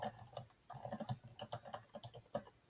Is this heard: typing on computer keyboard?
yes